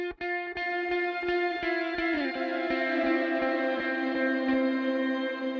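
Electric guitar played through an amp, compressor, chorus, delay and a combined convolution and digital reverb in Ableton Live, picking a steady run of repeated notes that ring out with a long, washy tail and no talking.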